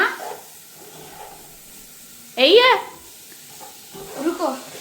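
Tomatoes are stirred in a cooking pan with a low, steady sizzle, while voices speak over it in short bursts.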